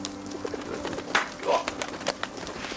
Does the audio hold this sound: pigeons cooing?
yes